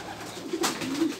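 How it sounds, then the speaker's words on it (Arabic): A pigeon coos softly and steadily at a loft or coop where racing pigeons are being released and returning, with a low outdoor hiss behind the brief rolling calls. "هاي الحمامة صورة صورة أول حمامة"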